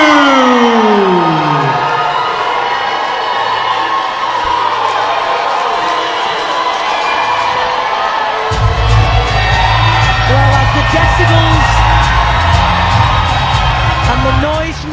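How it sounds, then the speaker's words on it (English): A boxing crowd at York Hall roaring and cheering during a live fight night, a loud, dense, sustained wall of shouts and whoops filling the venue, swelling further partway through. "The noise from the crowd is raised here in York Hall"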